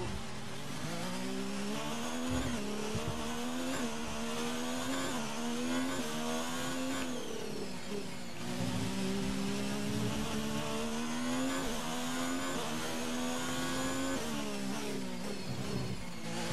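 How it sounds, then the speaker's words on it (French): A Formula 1 style engine revs hard and continuously, its pitch sweeping up and down through repeated throttle blips, loud and close with no talking. "Je m'amuse à faire rugir le moteur."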